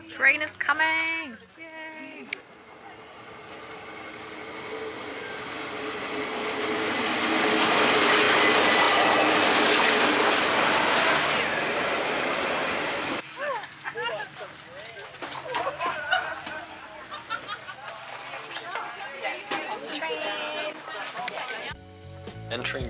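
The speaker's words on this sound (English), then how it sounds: "Train is coming!" The Northern Explorer scenic passenger train rolls into a station, a broad rumble swelling to a loud pass and fading, with squeals and clatter of wheels; people talk near the start and as it slows.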